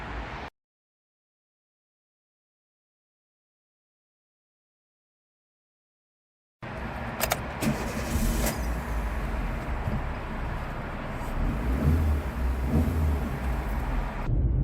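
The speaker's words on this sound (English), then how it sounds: "Let's have a look and see if it drives all right as well" A 2012 Chevrolet Spark 1.2 LS starts out nearly silent, then steady car driving noise fills in with a broad rumble and road roar that holds continuously to the end.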